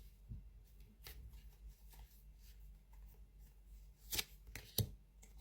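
Tarot cards are shuffled by hand in a few soft riffling bursts, quiet and close, with two sharper slaps near the end and no talk.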